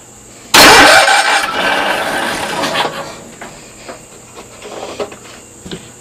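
A Cushman engine is started with the choke applied: a loud sudden crank and catch, then a rough, uneven running that settles lower and sputters with irregular bursts, alone and close by.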